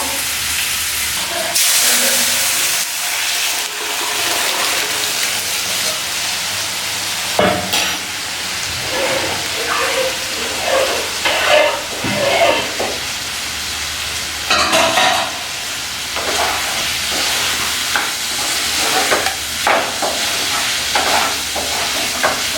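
Dal tempered in a pot, hissing and sizzling loudly with bursts of steam and stirring scrapes throughout, intensity surging at intervals over a continuous frying hiss.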